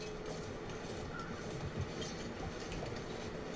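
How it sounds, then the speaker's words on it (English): A train in a video game rumbling past, a continuous low clatter and rolling rail noise with faint clickety-clack, fairly close and steady throughout. "Oh, I hate this stupid train."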